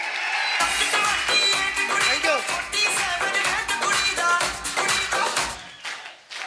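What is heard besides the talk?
audience applause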